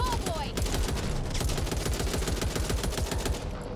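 An assault rifle fires in Back 4 Blood, a rapid, unbroken stream of loud automatic shots that runs for several seconds with no talking.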